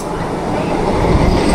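A passenger train rolls into Bardhaman Junction, a continuous low rumble of wheels and carriages heard from on board, growing slightly louder as it moves.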